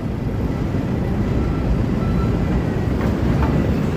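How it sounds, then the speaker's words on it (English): A Chicago Purple Line elevated train passes on a city street in the morning, a steady loud rumble and roar of rail cars with no voices over it. "There's the train heading around the Purple Line."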